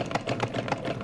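A sewing machine stitches a homemade fabric mask, giving a steady, moderately loud mechanical rattle with fast regular pulses throughout the short stretch, with no voices over it.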